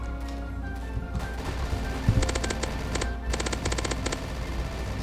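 A minigun rattles in a zombie video game, firing in several rapid bursts of evenly spaced shots over a steady low background hum, moderately loud, with no voices.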